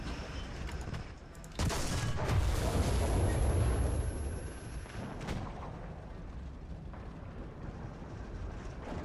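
Tank cannon fire in War Thunder ground battles: a loud boom with a long rumbling tail, then lingering engine and battlefield noise, with no talk heard.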